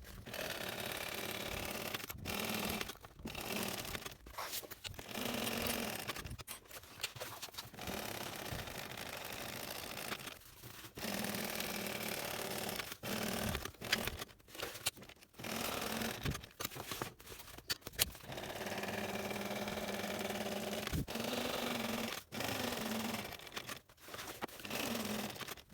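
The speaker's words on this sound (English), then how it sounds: "now I'm going to sew this down with an 1/8 of an inch seam allowance on both long edges" A sewing machine sews down a backpack strap along its long edges with a narrow seam allowance, running in bursts with brief stops and clicks between passes, fairly quiet and without speech.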